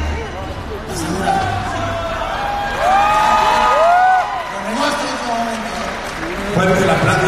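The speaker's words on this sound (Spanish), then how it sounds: "Fuerte el aplauso" Circus audience clapping and cheering loudly and steadily, with whoops and excited voices rising over the crowd noise throughout.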